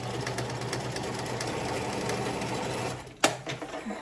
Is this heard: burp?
no